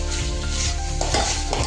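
Marinated chicken fries in oil on raised heat, a dense continuous sizzle with scraping stirring strokes close to the pan, loud and steady, with a tonal hum underneath and no speech.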